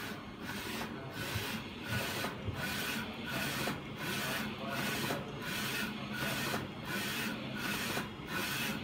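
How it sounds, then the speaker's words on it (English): A DX0406 printer printing onto a phone case, with its print head sweeping back and forth in a regular rhythmic shuttle of whirring passes, steady and close with no talk. "Now it's printing."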